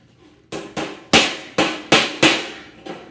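Sharp metallic hammer blows drive a screwdriver into sheet metal to start a hole for an indoor coil pan, about six loud, close strikes at an uneven pace, each ringing briefly before the next.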